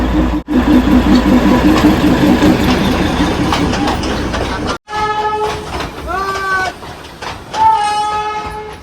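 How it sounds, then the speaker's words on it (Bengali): A train rumbles and clatters loudly into a station, then its horn sounds in long, repeated blasts as it pulls in, with voices mixed in the background. "ট্রেন আসছে সাইড করতে বলছে সবাইকে"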